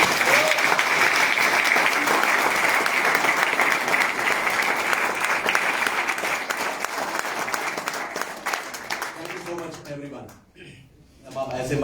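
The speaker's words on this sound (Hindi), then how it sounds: "तो एक बार 2000 तालियों के साथ" Long, loud applause from a large audience at a company seminar, sustained dense clapping that gradually thins and fades out near the end, with some cheering and chatter.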